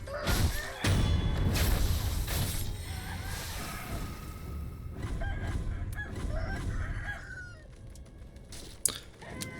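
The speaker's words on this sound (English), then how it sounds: "So many chickens!" Chickens in the video game Sekiro, a flock clucking and squawking in a busy, loud jumble over game sounds, with occasional sharp hits, continuing throughout with no talk.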